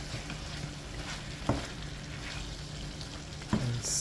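Butter beans stirred into thick oxtail gravy in a pot, a soft bubbling simmer with a couple of sharp knocks from the spoon against the pot, close and fairly quiet.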